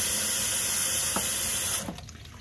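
A steady stream of tap water pours into a sink with a bright hiss while washing a chest binder, then cuts off, leaving a few faint drips.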